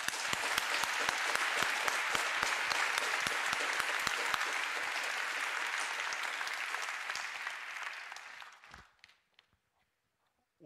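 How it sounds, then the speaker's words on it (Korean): A congregation at a church revival meeting claps loudly and steadily for about eight seconds, the applause thinning out and stopping, with a brief clap at the very end. "박수 한번 칩시다."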